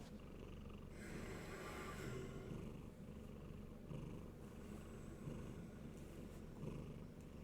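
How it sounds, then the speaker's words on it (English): A house cat purrs steadily and softly up close throughout, a continuous low rumble in a quiet indoor yoga session, with no talking. "On the way you can pet the cat a little, so it starts purring again"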